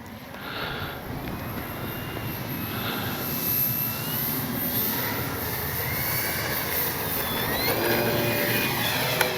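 A CNHL Super Tucano RC plane flies steadily through a crosswind, its engine making a continuous mid-level whine with a slowly shifting pitch that stays near and fairly loud throughout, with no talk.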